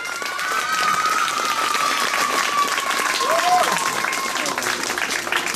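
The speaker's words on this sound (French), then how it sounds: "Allez, on applaudit." Audience applause at a village school end-of-year celebration for the CM2 class in the Cévennes, a steady dense clapping that carries on for the whole stretch, with voices and a few shouts mixed into the crowd.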